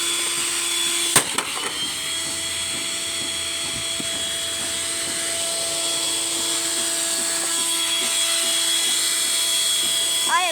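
A damaged Eureka Boss upright vacuum's motor keeps running with a steady high whine and rattling grit, loud and close.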